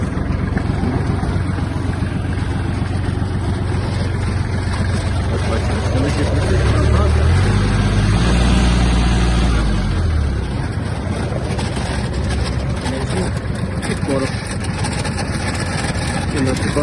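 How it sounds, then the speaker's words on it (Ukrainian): Kubota GL-32 Japanese mini tractor running steadily with its power take-off engaged, a continuous close engine drone with a deeper low rumble building briefly midway, and some background voice alongside. "Поки фреза у нас опущена, давайте включимо вал відбору потужності."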